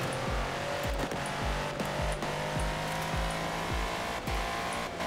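A battered Mercedes G-Class in a Forza racing game drives steadily with a continuous engine drone, while repeated rhythmic thumps and short downward sweeps pulse under it roughly twice a second, loud and close with no voices.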